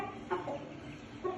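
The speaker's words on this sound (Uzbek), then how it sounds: "7-yanvarda chiqqan jo'jalar" Young chicks hatched on 7 January and chickens give a couple of short, soft clucks, faint and close, spaced apart over a quiet background.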